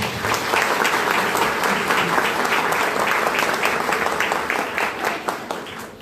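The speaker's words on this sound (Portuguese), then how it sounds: "vamos dar uma salva de palmas antes." A congregation at a Catholic Mass for First Communion claps together, a dense, steady wash of applause that fills the church and tapers slightly at the end.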